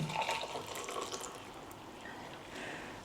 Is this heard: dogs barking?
no